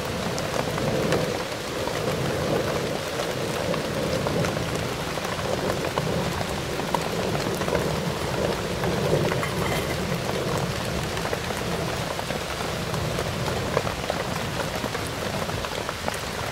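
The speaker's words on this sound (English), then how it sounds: "Oh, it is absolutely torrential rain." Torrential rain in a wood drums hard and continuously on a nearby surface, a thick, unbroken wash of splattering water with no voices.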